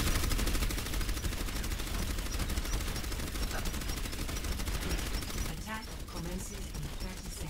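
Rapid automatic gunfire from the Overwatch video game rattles in a dense, continuous stream. It is loud and sustained, then thins near the end while another sound comes in.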